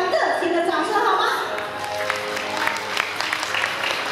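Guests clap warmly at a wedding banquet in a Taichung hotel, steady crowd applause with cheering voices and an amplified voice speaking over it.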